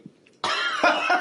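A single sharp, close cough bursts out after whisky went up someone's nose, short and loud with a brief second push at the end.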